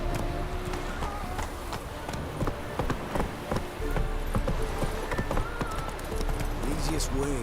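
Roach the horse gallops in The Witcher 3: Blood and Wine, a steady clip-clop of hooves running throughout, with a brief whinny, under continuous music and game ambience while a person talks.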